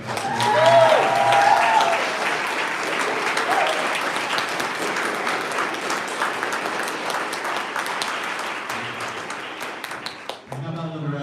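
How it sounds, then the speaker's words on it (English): Audience applause at a conservatory graduation ceremony, dense steady clapping from a large crowd that starts loud and slowly thins over about ten seconds before a voice begins speaking at the end. "How about some applause for our stage crew?"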